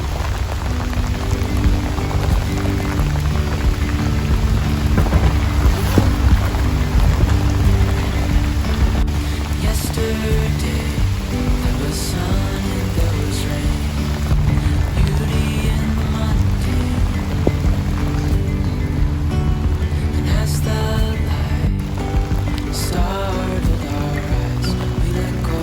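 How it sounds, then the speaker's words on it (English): Heavy rain pours steadily onto a narrowboat on a canal during a sudden downpour, a dense continuous hiss and patter drumming on the roof throughout, loud and close with no pauses. "before we had a chance to stop, the heavens opened"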